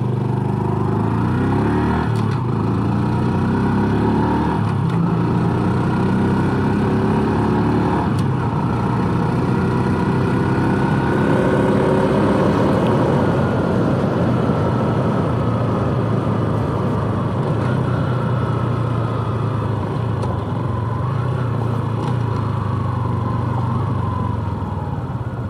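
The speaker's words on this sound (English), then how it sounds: "Still haven't quite gotten the throttle blip on downshift with this one yet." A 2019 Honda Super Cub C125 engine runs steadily and close by while riding, with a continuous low drone and small shifts in revving.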